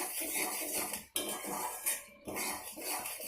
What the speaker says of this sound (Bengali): গরম মশলাটা দিয়ে আর একটু নাড়াচাড়া করে নেব।